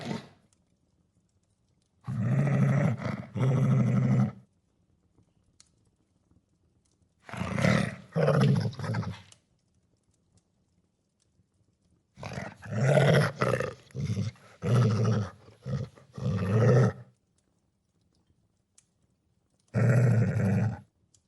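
Wolves snarling and growling over an elk carcass, in four loud, deep bursts of roaring and snarling separated by short silences.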